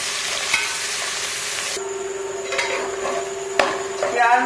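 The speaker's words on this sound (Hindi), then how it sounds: "और हल्का ब्राउन होने तक इनको भूनूंगी।" Onions sizzle in a hot pan while a utensil stirs and scrapes, with a few clinks against the pot, close and steady.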